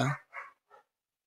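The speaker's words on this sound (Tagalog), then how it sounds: "Talagang mapakaingay ng aso rito sa kapitbahay namin" A neighbour's dog gives three short barks, the first loudest and the next two fading, spaced about a third of a second apart and heard alone.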